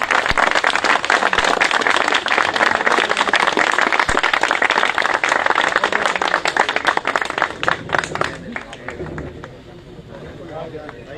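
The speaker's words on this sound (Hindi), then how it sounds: "सारे तालियां बजा के इन्होंने वेलकम करो।" A gathered audience at a welcoming program for Hafiz Imran Sahib claps loudly and continuously, with crowd murmur mixed in, before the applause fades away near the end.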